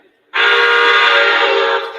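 Standard Southern Pacific freight whistle on an AC-12 cab forward steam locomotive: after a brief silence a single loud, sustained chime blast starts abruptly and holds steady, easing off just before the end.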